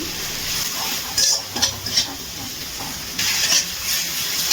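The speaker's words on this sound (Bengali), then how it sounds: "মশলাটা কিন্তু খুব ভালোভাবে কষিয়ে নিয়েছি।" Spice paste sautéed in a pan for a Bengali prawn and kohlrabi curry, a soft continuous sizzle broken by several short scraping strokes of the spoon, close and fairly loud, with no talk.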